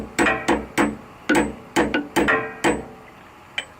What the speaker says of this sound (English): Got my little hammer, got my drift.